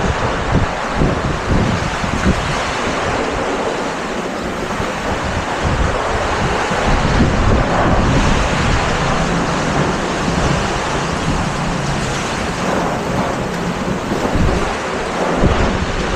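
Strong typhoon wind roaring continuously during a power outage, loud and buffeting against the microphone with a steady rushing texture and no speech.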